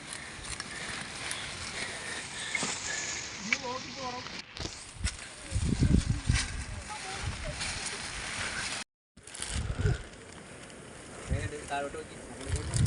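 Steady gusting wind roars across the microphone throughout at Illikkal Kallu hilltop in Kerala amid rain, with voices talking faintly beneath the rushing noise.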